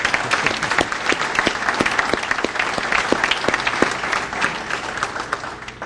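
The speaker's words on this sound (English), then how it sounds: "please applause for these people" A civic audience at a city's State of the City address applauds loudly and steadily, dense hand claps filling the hall throughout without a break.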